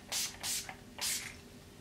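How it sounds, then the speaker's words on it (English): Scandinavia makeup setting spray misted in three short bursts, close and fairly soft, with brief pauses between sprays and no talking. "Finishing everything off with my Scandinavia Makeup Setting Spray"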